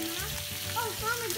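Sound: bacon frying and popping in oil

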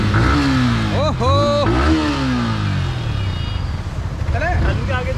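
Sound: Yamaha R15 V4 motorcycle engine revving

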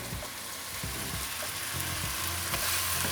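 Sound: herbal leaves added to hot hair oil frying in a pan

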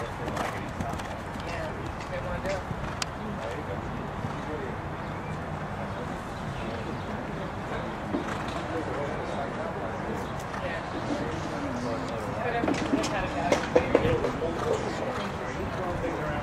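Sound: horses cantering in show jumping arena

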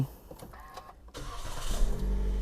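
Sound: Toyota Vios 1.5 High 2019 engine starting with push button

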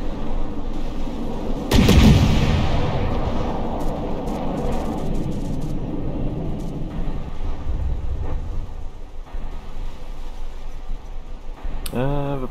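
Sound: torpedo hits and naval gunfire in a video game battle

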